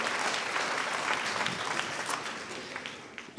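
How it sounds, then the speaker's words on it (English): A graduation ceremony audience applauds in a steady wash of clapping that fades slightly toward the end, heard alone without speech. "Let's just clap for that"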